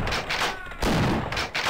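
A shotgun fires in Half-Life in the Xen level. Several loud, booming blasts come in close succession and fill the moment with dense, roaring noise.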